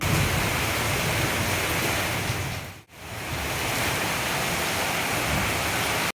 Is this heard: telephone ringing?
no